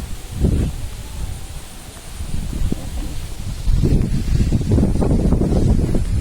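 Strong wind blowing across a hilltop, buffeting the microphone in heavy, uneven rumbling gusts that swell and fade, loudest toward the end.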